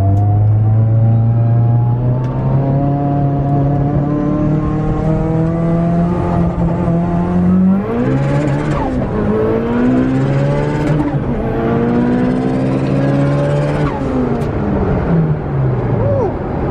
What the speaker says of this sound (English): I'm gonna hop in Michael's car and get a test run with him